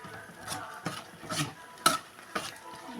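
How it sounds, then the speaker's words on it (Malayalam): Upma being stirred in a pan as it cooks, a spoon scraping through the thick mixture in about six separate strokes with faint sizzling between them, close and quiet, no talking. "നമുക്ക് നല്ലോണം വേവട്ട് ഇളക്കി കൊടുക്കാം"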